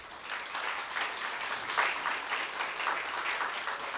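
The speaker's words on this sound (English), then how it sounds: "You may applaud." Audience at a state representative primary debate applauding, a steady dense wash of many hands clapping together at a moderate level throughout.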